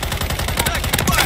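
Rapid close gunfire from Call of Duty MWIII on the Rust map, a dense burst of loud cracking shots in quick succession with overlapping reports.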